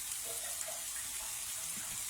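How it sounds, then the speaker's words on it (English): A few tablespoons of warm water poured into curry paste in a home kitchen, a soft, steady close-up trickle with a faint splashing hiss throughout. "about 3 tablespoons of warm water to it"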